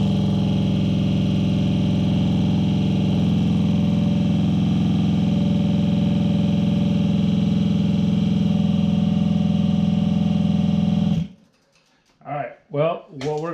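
A 1978 Puch Maxi moped engine running and idling with a steady, close, loud drone. It cuts off abruptly near the end, leaving a few brief fragments of other sound.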